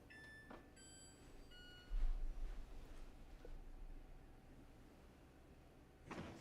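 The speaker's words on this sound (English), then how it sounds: "What was that beeping?" Several thin electronic beeps at different pitches from an air purifier ring out early on, followed by a low rumble and a faint sound near the end.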